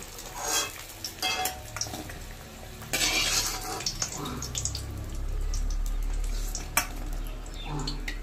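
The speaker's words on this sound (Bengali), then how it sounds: "তারপর একে একে সব কিছু ভেজে নিচ্ছি। সব কটা পটলের টুকরোই আমি তেলে দিয়ে দিলাম।" Pointed gourd (potol) pieces frying in hot oil in a pan for a Shivratri offering, a steady close sizzle with occasional stirring and utensil scrapes.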